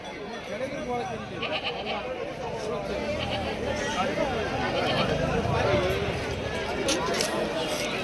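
Goats bleat repeatedly amid the steady crowd babble and chatter of a busy livestock market at Shirur, Pune district, with the animals mixed into continuous background voices.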